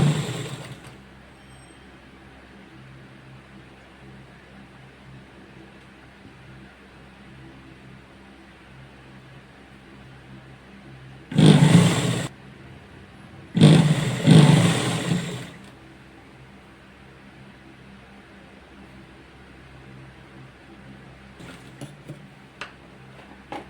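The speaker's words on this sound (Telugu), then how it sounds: "ఇట్లా మిషన్తో కూడా కుట్టు వేసుకోవచ్చు నేనైతే ఈజీగా ఉంటుందని మిషన్తో కుట్టు వేసేసుకుంటున్నాను" A sewing machine stitches the neck hem of a blouse in two short whirring bursts close to the microphone, separated by a brief pause, with near silence before and after.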